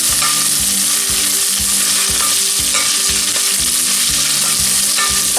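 Onion, garlic and ginger sautéing in a pan, a loud, continuous close-up sizzle with regular stirring scrapes about twice a second.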